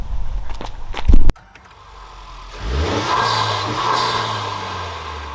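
A few clunks and a click, a short pause, then a stock Honda Civic Type R engine revs up and holds a smooth, steady, quiet drone, fairly close by.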